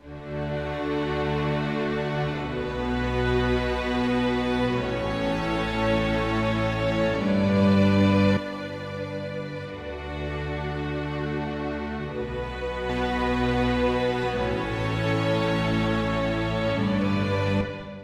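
Lush orchestral strings play smooth, connected legato lines with several layered sections, a broad reverberant wash sustaining continuously at moderate volume.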